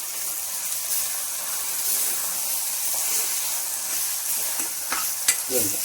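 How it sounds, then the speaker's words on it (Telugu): Garam masala stirred into a frying boti curry with vakkaya, giving a loud constant sizzle and hiss with a few scraping stirs near the end, close up and without speech. "ఇదిగో గరం మసాలా వేసేసుకుంటున్నాం"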